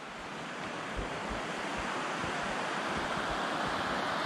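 The Whitewater River rushes steadily, a dense, continuous roar of flowing water, loud and close, with no voices.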